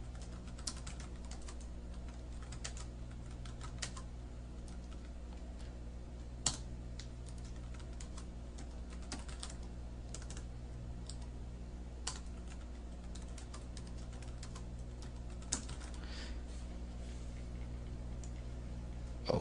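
Keys on a computer keyboard clatter quietly and continuously while text is entered into slides, with a few louder clicks standing out over a low background hum.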